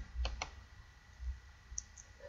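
A computer mouse gives two quick, faint clicks in close succession in a quiet room, followed by a soft low thump and a couple of tiny ticks.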